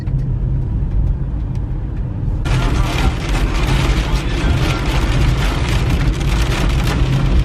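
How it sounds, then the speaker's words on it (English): Steady rain hiss on a stormy Irish coastal cliff, with a brighter, denser patter of drops kicking in after a couple of seconds and continuing evenly throughout. "It's still raining, but I can see blue sky over there"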